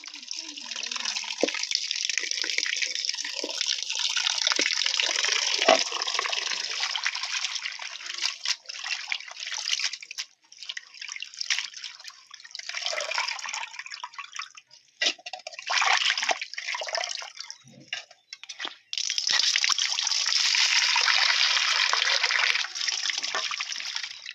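Spinach greens are washed in water, with splashing and trickling coming in long bursts broken by brief pauses, close and fairly loud.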